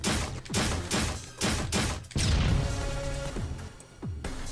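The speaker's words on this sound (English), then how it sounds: "Grenade." A grenade going off in the Void Terrarium video game, following a series of sharp blasts, then a heavy sustained rumble that gradually fades.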